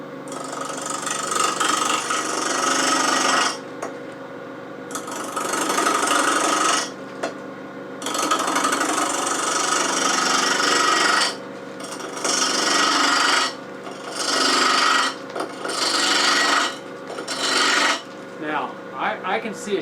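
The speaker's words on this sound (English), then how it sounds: "I'd prefer a stronger 1/2 inch bowl gouge, and that's what I'm going to use." A half-inch bowl gouge shears into a wooden twig pot spinning on a lathe, giving a loud steady rasping hiss in long passes broken by brief pauses as the tool is lifted and reset.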